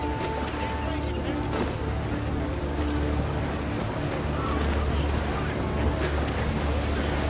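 A sailing ship at sea in Assassin's Creed 4 Black Flag, with steady rushing wind and crashing surf filling the scene in a constant, dense wash of sound.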